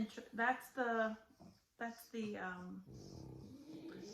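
A little puppy growls and whines close by in short, rumbling bursts with brief pauses between them, and the sound ends in a softer, raspy grumble.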